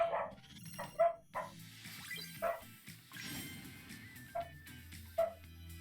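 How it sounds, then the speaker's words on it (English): Several dogs bark excitedly in short separate bursts, about five sharp yips and barks spread across a few seconds, with a background hum and rustling beneath them. "Dogs were going nuts."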